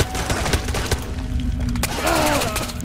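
Gunfire in the virtual reality shooter Ghost of Tabor: a dense, rapid fusillade of shots with thuds and mechanical clatter, loud and continuous through the moment with no talking.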